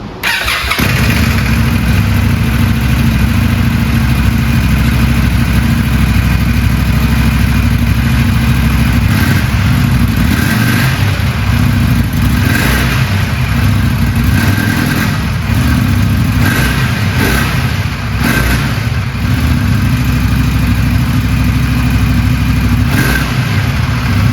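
A 2025 Indian Scout motorcycle with its stock exhaust runs loud and close for the whole stretch, a steady idle broken by several throttle blips that rev up and fall back.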